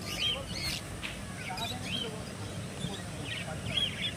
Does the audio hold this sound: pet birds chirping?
yes